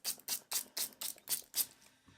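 Spray bottle misting water onto watercolor paper for a loose ink background: seven quick, crisp hissing bursts in a steady rhythm, close and fairly soft, with no talking.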